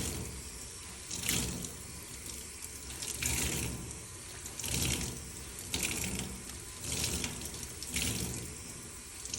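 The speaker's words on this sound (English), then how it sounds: "So I'm gonna rinse that off until there's no more gray clay left behind in my sponge." Water runs from a tap while a clay-covered sponge is rinsed and squeezed beneath it, the stream splashing in rhythmic surges every second or so, close and steady with no talk.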